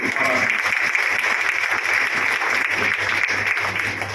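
Steady applause from a crowd at a formal congratulatory gathering honouring an Additional Solicitor General of India, a continuous dense patter of clapping with no break across the whole stretch.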